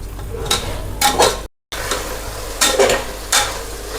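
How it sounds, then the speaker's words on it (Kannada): Chicken masala for a white biryani pulao is stirred and fried in a pan. A spatula scrapes in several distinct strokes over a sizzling bed, with a brief dropout in the middle. "ಇವಾಗ ಚಿಕನ್ ಮಸಾಲೆ ಎಲ್ಲ ಫ್ರೈ ಆಗಿದೆ."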